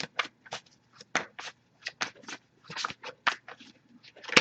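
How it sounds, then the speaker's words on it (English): A deck of tarot cards being shuffled by hand, a series of soft riffling bursts in an irregular rhythm, close and fairly clear, with no talking. "if I shuffle for a while without anything coming up, I'll just put the deck down"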